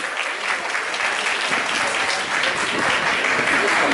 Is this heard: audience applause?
yes